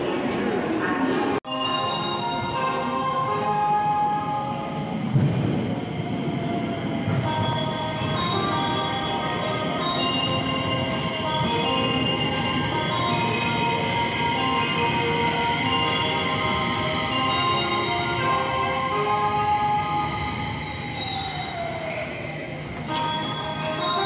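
A JR local train running from Hiroshima toward Iwakuni and Miyajimaguchi, with steady close-up rumble and rail noise, drawn-out wheel squeal and a falling tone near the end, and faint talk in the carriage.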